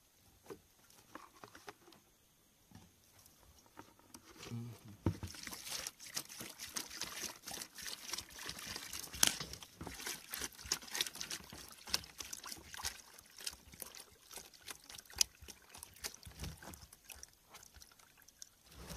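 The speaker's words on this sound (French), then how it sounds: "c'est le bidon qui contient de l'eau. On va prendre un peu d'eau ici." Water trickles and patters steadily as it is drawn from a jerrycan beside a well on a plantain farm, a moderate, continuous pouring sound lasting throughout with no voices.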